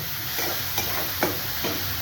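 Coriander being stirred into a frying tempering of cumin, mustard seeds and chilli, a steady close sizzle broken by about four soft scraping strokes of the spoon.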